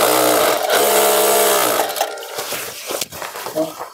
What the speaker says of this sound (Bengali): সেলাইটা করে নিচ্ছি।